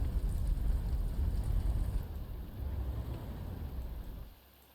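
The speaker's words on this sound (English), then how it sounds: "Still raining, huh?" Steady rain in the strategy game Panzer Corps 2 makes a dense, close wash of low rumbling patter. It holds fairly even, then drops away abruptly near the end, with no voices heard.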